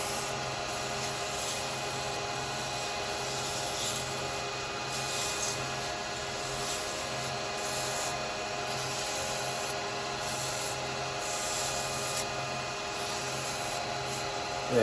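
Continuous rough sanding against a small wooden Christmas angel spinning on a lathe, a steady abrasive rasp over the constant hum of the machine, close and unbroken.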